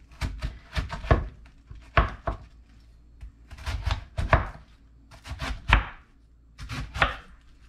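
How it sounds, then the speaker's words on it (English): A knife slices through cabbage for cabbage soup, with repeated close, crisp crunching cuts arriving in quick clusters and thudding onto the board between brief pauses. "then I'm just going to cut my cabbage in half"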